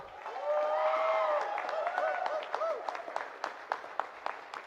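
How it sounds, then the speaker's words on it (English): A crowd at a company awards ceremony applauds and cheers an award winner, with a sustained burst of clapping and voices whooping at first, then thinning into scattered claps. "the applause, the cheers, the noise speaks for itself"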